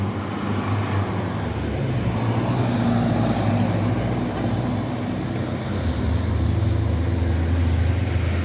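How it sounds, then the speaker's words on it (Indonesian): Trucks roll past on a road near Gunung Merapi in West Sumatra, a steady loud rumble of engines and tyres that swells and eases without a break over several seconds. "Ada beberapa truk yang mungkin berasal dari daerah Solok."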